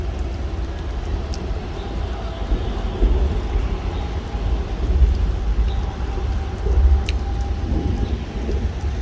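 Heavy rain pours steadily during a severe thunderstorm over Montreal, with low rumbles of thunder rolling beneath the constant hiss and a few sharper cracks standing out, distant and continuous, with no voices.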